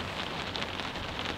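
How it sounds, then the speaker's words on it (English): Heavy rain drumming steadily on the shell of a truck camper during a powerful storm on a remote mountain, a dense close patter with no pauses and no voices. "I can just sit here, listen to the rain."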